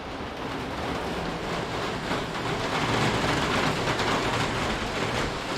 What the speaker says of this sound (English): sorry for the rain sound